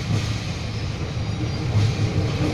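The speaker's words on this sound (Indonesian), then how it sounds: "Proses langsir" Train shunting at Ciranjang station, a steady loud rumble of rolling rail wagons with a low drone throughout, no voices.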